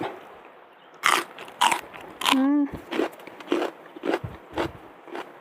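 Fresh snow peas picked in a home vegetable garden being bitten and chewed: a series of sharp, close crunches at an irregular rhythm, mixed with a short voiced sound.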